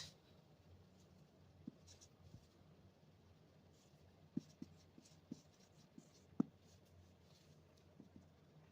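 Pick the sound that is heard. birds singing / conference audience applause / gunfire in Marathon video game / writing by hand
writing by hand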